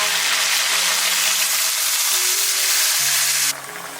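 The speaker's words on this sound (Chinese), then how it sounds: "加入开水调大火煮开" Water brought to a boil over high heat in a pot of braised beef tendon with chestnuts and sauce, giving a steady close hiss and sizzle with faint low bubbling, easing off slightly near the end.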